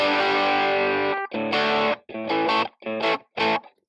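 Electric guitar through an amplifier's distortion channel set low but still breaking up: a sustained distorted chord rings out, then several short choppy chords separated by brief silences, loud and close.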